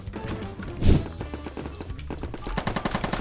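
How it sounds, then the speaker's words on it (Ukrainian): Rapid bursts of Roblox war game gunfire crackle close and loud, with a heavier shot near the start and quick repeating pops toward the end. "Стріляю!"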